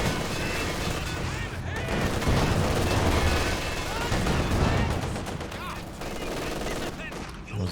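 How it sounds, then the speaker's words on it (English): Dense gunfire from units in the Company of Heroes 2 strategy game, a T-70 tank charging a machine gun position with incendiary rounds, with continuous rattling bursts and booms layered into a loud, chaotic battle mix as a commentator talks over it. "Driving in point blank on the machine gun, tries to use the incendiary rounds."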